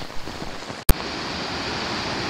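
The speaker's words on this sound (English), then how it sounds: "The drain off Carew Street absolutely gushing down to the creek." Floodwater from a street drain gushes down toward a creek in a steady, broad roar. A sharp crack interrupts it briefly before the rush continues.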